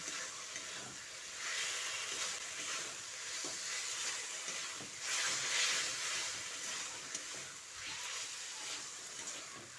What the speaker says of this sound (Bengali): ভাজা আলুগুলো দিয়ে মশলার সঙ্গে ভালো করে মাখিয়ে নিচ্ছি